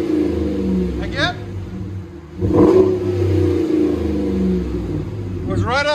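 RAM 1500 pickup with a 5.7L HEMI V8 revving through a modified exhaust with the resonators removed, a deep rumbling burble swelling into a loud rev and settling back, close by, with people talking and whooping over it.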